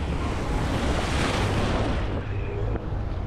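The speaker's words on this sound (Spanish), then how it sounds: "No son olas tan bravas como ayer, tan repetidas." Ocean waves breaking on a beach at Playa del Carmen, a loud continuous roar of surf with wind buffeting the microphone and a slight easing near the end.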